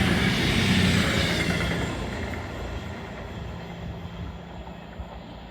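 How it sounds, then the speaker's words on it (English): At Teignmouth, a train rumbles past steadily with broad wheel and engine roar, loud at first and slowly fading as it moves away. "Are you going to be a happy train?"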